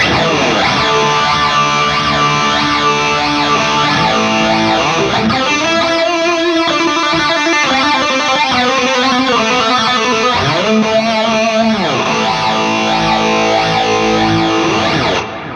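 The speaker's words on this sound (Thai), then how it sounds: "มาลองที่เฟสเซอร์ดูจะเป็นไง" Fender American Professional II electric guitar with a DiMarzio DP180 pickup, chords ringing through a sweeping phaser, the tone swirling and whooshing as it plays alone, steady and fairly loud.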